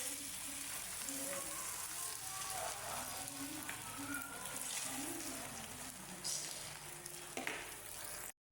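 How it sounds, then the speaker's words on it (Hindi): An egg frying in oil in a pan for an egg shami kabab burger gives a steady, close hiss and crackle that runs unbroken for several seconds, with no speech. "दूसरे अंडे को भी अच्छे से फ्राई कर लेंगे"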